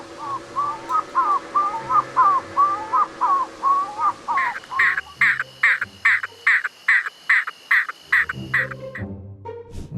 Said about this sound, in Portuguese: Uma ave noturna que em algumas épocas do ano faz um som que parece realmente dizer cavala, cavala